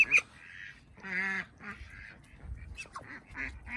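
Ducks quack in a home where ducks, chickens and rabbits live together, with a close burst of nasal calls, a longer honking quack near the middle, and scattered softer calls after it.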